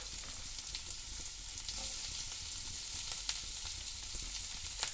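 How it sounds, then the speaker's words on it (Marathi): Chopped onion and green chillies sizzle in hot oil tempering for radish greens on a wood-fired stove, a steady close crackle with occasional sharper pops and faint stirring, no voices. "आता त्याच्यामध्ये तो चिरलेलो कांदो आणि मिरच्या"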